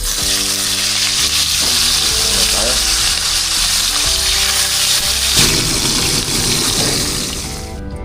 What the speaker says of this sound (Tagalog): Ayan, magprito muna tayo ngayon. Ito po yung ating mga tilapia.